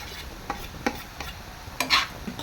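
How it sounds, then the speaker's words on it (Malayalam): Chicken and vegetables are stirred together in a pan for a macaroni dish: a few quick scraping strokes against the pan over a soft background sizzle, close and clear. "ചിക്കനും വെജിറ്റബിളും എല്ലാം കൂടെ നന്നായിട്ടൊന്ന് മിക്സ് ചെയ്തെടുക്കണം"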